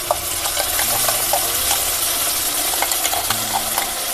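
Spice masala paste of ginger, cumin, chili and garlic hits fried onions in a home kitchen pan with a steady close sizzle, punctuated by light spoon scrapes and clinks against the pan.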